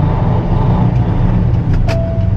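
A truck's diesel engine rumbles loudly and steadily from the cab in Toronto city traffic, with faint road noise and a brief hiss near the end, no talk heard.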